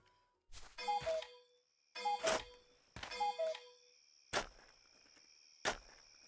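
A bell alarm in the video game Travellers Rest rings out in five distinct bursts, the first three longer with chirping tones and the last two short sharp dings, fairly faint and with no talk.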